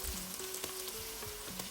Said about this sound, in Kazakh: Енді құсымызды үстінен салып, 10 минуттай қақпақтың астында қуырамыз.